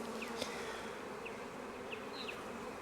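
A dense, steady hum of many honeybees buzzing close by in a five-frame nuc hive, with a few individual bees droning past above the constant drone.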